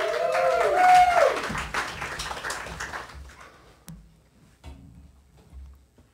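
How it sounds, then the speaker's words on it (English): An audience at a live encyclopedia-themed show applauds a presenter with dense, loud applause and a high cheer or whistle, then the clapping thins and fades into scattered claps. "Put your hands together for Fearless member Jenna Young"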